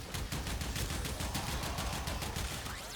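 Kuva Brahma bow firing in the shooter Warframe, a rapid, rhythmic string of loud percussive shots and impacts running steadily for a few seconds.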